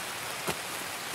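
Steady rain falling in the video game Escape from Tarkov, a dense even hiss of drops on surfaces, constant and moderately loud, with a couple of slightly louder splashes and no talking.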